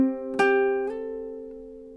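Ukulele phrase from a gentle lullaby: a held plucked note slides into the next, with a second pluck near the end, ringing softly and close with no voices.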